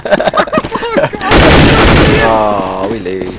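Counter-Strike: Global Offensive gunfire, a loud burst of rapid shots after some short cracks, fading into a ringing tail, with voices speaking over the start.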